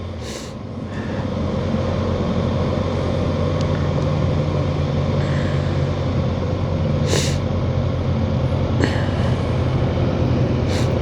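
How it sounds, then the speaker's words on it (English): A 2021 Kawasaki Ninja 650 engine running at steady high revs while riding, a loud continuous drone with droning road and wind noise and no speech. "This engine, I find that I just want to rev it, as it does it so easily."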